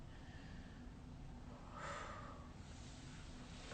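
One deep breath during a breathing exercise, a soft, close inhale swelling briefly and then easing off, faint and alone with no talking.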